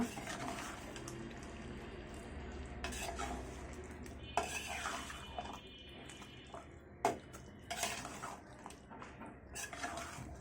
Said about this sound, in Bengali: এগুলো পেঁয়াজের কোষ এগুলোকে মাংসের সাথে মিশিয়ে নিব